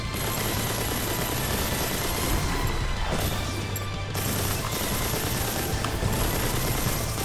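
Gatling guns firing from Gundam mechs in the game Mass Builder, an unbroken, rattling roar of rapid shots that stays loud and harsh the whole time with only a brief dip midway.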